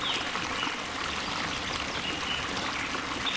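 River water streams steadily, a constant broadband rush with faint trickling detail, close and even throughout with no voices.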